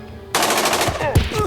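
Automatic gunfire in Jagged Alliance 2, a sudden loud burst of rapid shots starting after a quiet moment, followed by a sharp heavy crack near the end with ringing impacts.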